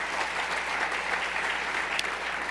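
Dense, steady applause from an audience fills the space, a continuous even patter of many hands clapping at moderate distance with one sharper clap near the end.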